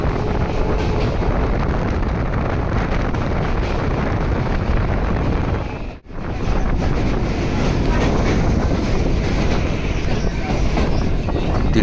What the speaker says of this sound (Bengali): আমাদের ট্রেন বালিঘাট স্টেশনে এসে উপস্থিত হলো এবং বালিঘাট স্টেশন থেকে ছেড়েও দিল